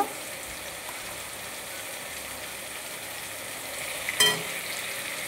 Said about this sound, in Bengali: জিরে আর ধনে গুঁড়ো, কাশ্মীরি লঙ্কার গুঁড়ো দিয়ে ভালোভাবে নাড়াচাড়া করে নেব